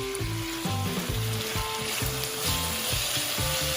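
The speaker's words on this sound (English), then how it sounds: "just to get the tomatoes cooking" Tomatoes cooking in a pan with garlic for ackee and saltfish, giving a steady sizzle with a few soft stirring clunks and no talking.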